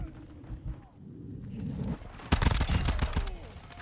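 Gunfire from an MX Guardian shotgun in the shooter game Modern Warfare 2, a rapid cluster of loud blasts in the second half after quieter game noise, with a player talking.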